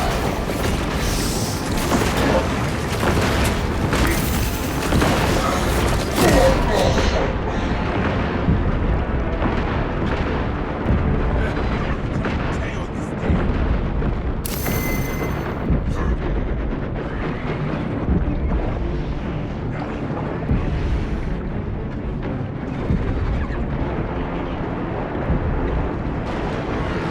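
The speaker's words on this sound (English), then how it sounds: "Engage auxiliary generators to resume fire." Heavy defense cannon fire and battle noise in the video game Warhammer 40k Space Marine 2, a dense, loud, rumbling barrage with booming blasts and continuous roar throughout, no talk.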